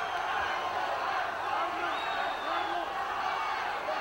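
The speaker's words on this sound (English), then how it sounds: "Maybe hear the crowd chanting, USA, USA." A fight crowd roars at a mixed martial arts bout between Chael Sonnen and Arman Gambaryan, a steady wash of massed voices with scattered whoops, heard continuously at a distance under the arena din.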